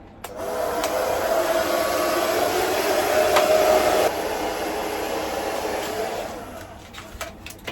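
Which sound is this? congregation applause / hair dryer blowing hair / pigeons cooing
hair dryer blowing hair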